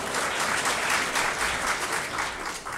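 An audience bursts into steady, dense applause, many hands clapping together at a fairly loud level throughout, with no break.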